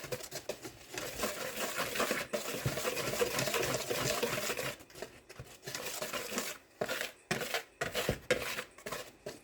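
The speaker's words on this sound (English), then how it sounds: "So make sure that you whisk this really" Dry biscuit ingredients whisked in a bowl for Southern US style homemade biscuits, a busy scraping and clinking rattle that runs steadily, then breaks into short separate bursts toward the end, with no talking.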